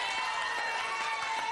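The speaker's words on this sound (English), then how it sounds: "There's always more applause and cheering on that first one than any." Studio audience applause and cheering on a televised quiz show, a steady dense wash of clapping lasting briefly without pause.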